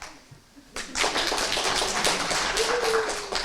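Children clap their hands at a puppet show, a burst of quick, uneven claps starting sharply after a quiet moment and continuing steadily, close by, with a voice briefly heard alongside.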